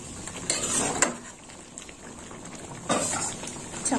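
Pot of moong dal with ridge gourd and prawns bubbling on the stove, a low liquid simmer broken by a couple of short clinks of a spoon against the pot.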